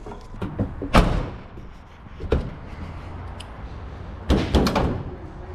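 The hood on a truck with a 12-valve engine and 2nd-gen Dodge chassis is popped open: a sharp metallic latch clunk, a lighter knock, then a cluster of thuds and rattles as it lifts, all close by.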